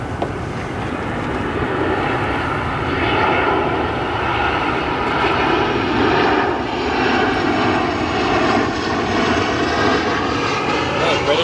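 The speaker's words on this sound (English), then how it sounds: "Our next arrival here, Southwest Airlines 1512 from Cancun" Southwest Airlines jet arriving at O'Hare from Cancun, a steady broad engine roar with a faint whine, loud and continuous throughout, with a voice talking underneath.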